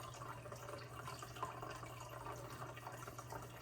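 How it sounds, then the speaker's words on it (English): Water from an overfull fish tank trickles back down like a small waterfall, a faint, steady splashing and dribbling with a low constant hum beneath it and no voices. "you might hear a little water going back like a waterfall"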